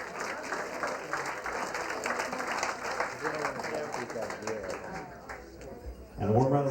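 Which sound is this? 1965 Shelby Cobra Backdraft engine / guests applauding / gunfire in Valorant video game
guests applauding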